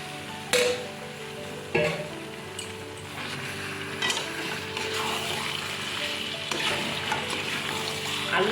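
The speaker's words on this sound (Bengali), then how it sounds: "এবার আলুগুলো দিয়ে দিচ্ছি।" Boiled potatoes sizzle steadily in a pan of cooked spice paste for a vegetarian Kashmiri aloo dum, and a spoon occasionally clatters and scrapes as they are stirred.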